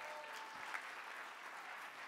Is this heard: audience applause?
yes